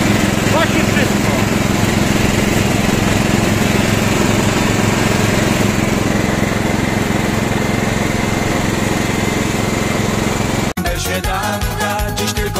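A riding lawn mower tractor engine runs steadily and loudly close by, a constant buzzing drone in heavy grass, with a brief clunk near the end as the tone shifts.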